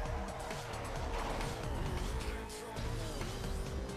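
A car drives at speed in Need for Speed Most Wanted, its engine a steady loud roar with shifting whine and road noise throughout, with no pauses.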